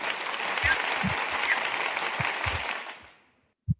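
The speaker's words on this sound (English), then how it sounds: "Wait, we need the applause button." Canned applause from a sound-effect button during a GED study session, a steady crowd-clapping burst that fades out after about three seconds, with a few low thumps and a brief knock at the end.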